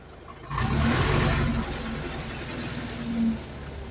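A car engine idles with a steady low hum, its revs sinking slowly after a brief rise, set to minimum with suspected fuel injection trouble; a mid-level mechanical drone continues throughout without speech.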